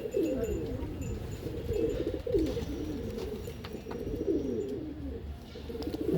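Pigeons in a loft coo continuously in low rolling phrases, several birds overlapping at close range with a faint chirp or two and no talking.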